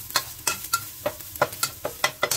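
Garlic fries in a pan for pinakbet as a utensil stirs it, giving about eight regular scraping strokes over a soft sizzle, close and moderately loud with no voices.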